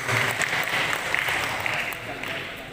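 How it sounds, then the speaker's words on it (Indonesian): Audience applause at a regional Muhammadiyah leadership meeting in East Java, a steady patter of clapping with voices mixed in, fairly quiet and continuous. "Tepuk tangan dulu."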